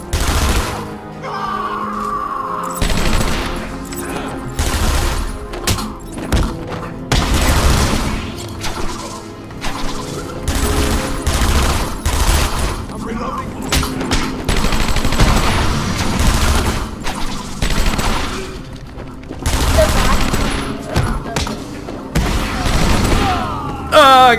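Loud bursts of gunfire and heavy impacts crash repeatedly through a combat scene in Batman: Arkham Asylum, rapid fusillades and booms coming in waves for the whole stretch, with occasional gasps and voices mixed in.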